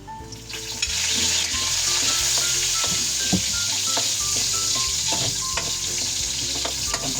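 Onion fries in a hot pan for pakbet, giving a steady close sizzle with occasional stirring scrapes and crackles throughout.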